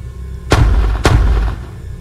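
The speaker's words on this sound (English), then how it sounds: "Just shoot twice if you can read this." Two loud, sharp gunshots in a video game, spaced about half a second apart, each followed by a short booming decay over a low background hum.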